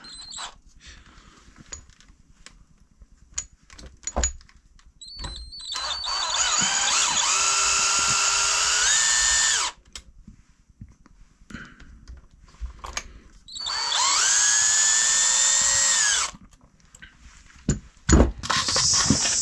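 A power drill backs screws out of an RC car chassis in two sustained whirring bursts, each lasting a few seconds and rising in pitch. Clicks and handling knocks fill the gaps between them.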